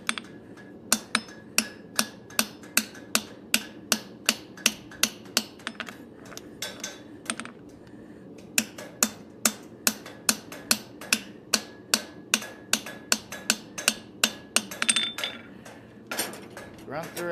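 Steady rhythmic hammer blows ring on a steel blade being fullered at a forge, sharp metallic strikes about twice a second, briefly pausing midway before resuming.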